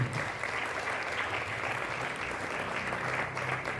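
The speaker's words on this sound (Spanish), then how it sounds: "Dale un fuerte aplauso al Señor." A church congregation claps together during a Spanish-language worship service, a continuous, even applause at moderate distance with no break.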